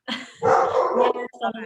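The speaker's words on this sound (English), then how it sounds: "yes, that's my dog." A pet dog barks repeatedly in quick, loud bursts close to the microphone, mixed with a person talking over and between the barks.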